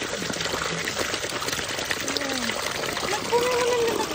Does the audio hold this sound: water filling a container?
yes